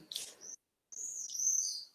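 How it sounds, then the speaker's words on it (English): Small birds chirp and tweet outdoors in two short bursts separated by a brief pause, with bright, high-pitched calls at moderate volume. "You can hear the birds outside sweeping about."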